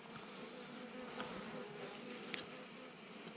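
Honeybees in a small, very calm colony give a faint, steady high-pitched hum that runs throughout, with one brief louder buzz as a bee passes close.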